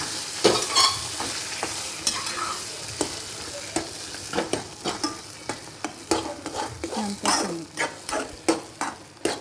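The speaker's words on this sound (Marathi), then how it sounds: "आता आपण हे दूध गरम करून घेतलेलं आहे ते ह्याच्यामध्ये" Heated milk is stirred into banana shira in a pan: loud, steady scraping strokes of a spoon against the pan come in a regular rhythm over a soft sizzle, with no talking.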